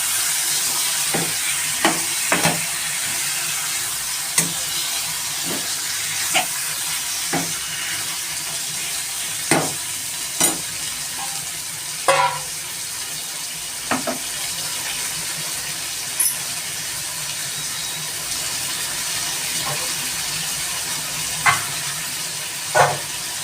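Chicken frying in a pan while being stirred, a steady sizzle broken by repeated sharp scrapes and clinks of the spoon at irregular intervals, close and fairly loud.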